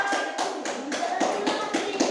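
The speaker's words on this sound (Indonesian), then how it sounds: "Iya, tepuk tangan dulu untuk kelompok 4." Classroom students clapping for a group of classmates, a steady run of even, fairly quick claps in a regular rhythm, moderately close but not loud, lasting the whole short stretch.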